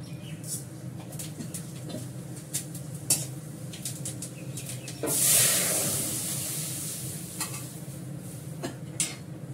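Fenugreek seeds and dried red chili frying in a pan, a steady soft sizzle with a louder hissing burst midway and light clinks of a utensil.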